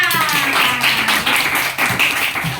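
Students clap together for a classmate in a classroom, a short burst of hand claps with a slightly rhythmic, close-up quality.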